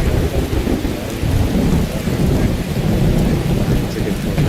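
Steady heavy rain pours with a deep, rolling rumble of thunder underneath in a video game, loud and continuous throughout, with no voices.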